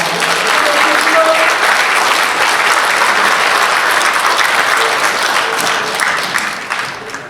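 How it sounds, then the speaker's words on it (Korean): Warm applause from an audience at a Korean book launch and author introduction, a steady, dense round of clapping filling the room before fading out at the end. "따뜻한 사랑의 박수를 부탁드리겠습니다."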